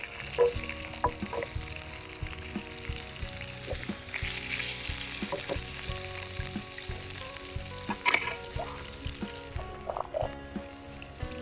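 Curry leaves and lengthwise-sliced green chillies fry in hot oil in a pan for a Kerala pearl spot fish mappas, giving a steady close sizzle with occasional stirring clinks and pops, no speech.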